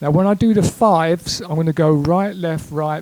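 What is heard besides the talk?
No everyday noises stand out.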